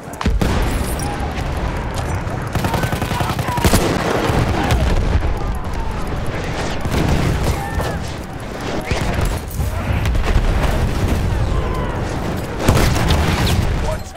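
Heavy gunfire and booming explosions from a Battlefield 1 multiplayer operations battle roar continuously and loudly, with dense overlapping shots and blasts throughout and occasional louder bursts.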